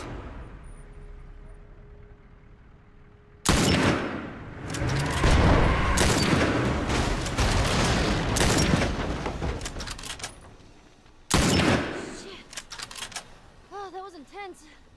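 Gunfire in The Last of Us: after a quiet lead-in, a loud burst of rapid shots and booming reports erupts and rolls on for several seconds, then a second sharp volley hits, followed by a brief voice.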